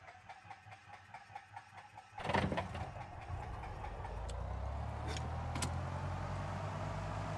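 A Cessna 172SP engine in the X-Plane 10 flight simulator catches after a few starter-cranking pulses, then settles into a steady, fairly loud low idle rumble that runs on with a few faint clicks on top.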